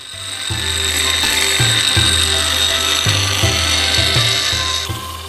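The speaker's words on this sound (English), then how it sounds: "Use my belt grinder to make a flat grind near the tip." A belt grinder works a heat-treated Japanese tanto knife blade, putting out a loud, continuous abrasive whine with a steady motor hum, close and alone, the pitch dipping briefly as the steel is pressed to the belt.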